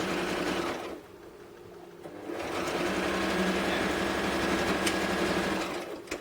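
A sewing machine back stitching a dress seam: a close, steady motor whir that pauses briefly, then runs again continuously before stopping.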